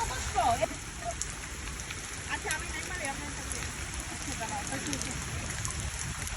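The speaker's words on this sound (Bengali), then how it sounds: "আজকে আমরা বৃষ্টিতে ভিজছি, ভিজতেছি" Rain falls outdoors near a large old banyan tree, making a steady broad hiss of drops on surfaces. Voices are heard faintly beneath the downpour.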